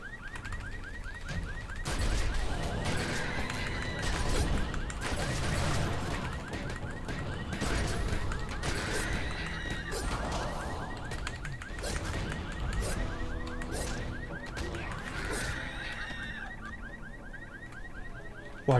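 Car alarms set off by jumping on parked cars in The Secret World video game, a loud repeating electronic wail that keeps cycling amid fighting noise and bursts of shots.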